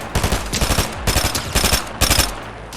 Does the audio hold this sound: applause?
no